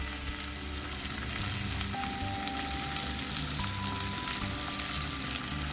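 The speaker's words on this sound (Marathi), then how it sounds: "आणि आता हे चांगलं मिक्स करून घ्यायचं" Masala of Kashmiri chili powder and garam masala frying in a pot while being stirred for a tamarind-jaggery toor dal amti: continuous close sizzling and crackling with soft scraping stirs, steady and fairly loud, no voices.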